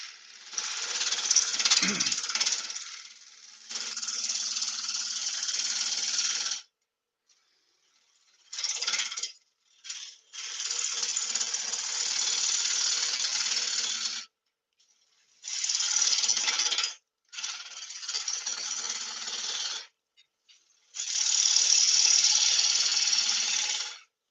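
A wood lathe turns a tool handle while the cutting tool bites in repeated loud, hissing bursts several seconds long, separated by short quiet gaps.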